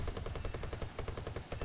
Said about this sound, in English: Don't want to overheat the cannons